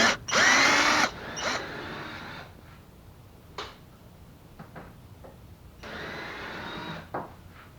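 A power drill spins out screws from a Jeep Compass side light, giving several short bursts of whirring separated by pauses and faint handling clicks, heard close up with no talk.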